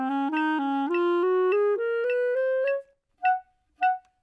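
A Bb clarinet plays the opening measures of an etude at half tempo, a clear solo line of rising stepped notes held smoothly for nearly three seconds, then two short detached notes after a brief pause.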